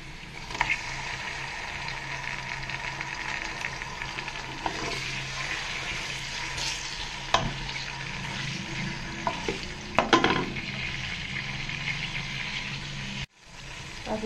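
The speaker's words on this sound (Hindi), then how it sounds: "मैं अब इसमें गोश्त डाल के भूनूंगी" Meat frying in a pot with browned onions for a daal gosht dish makes a steady, close sizzle, with occasional stirring scrapes and clinks of a spoon against the pot, and no talk.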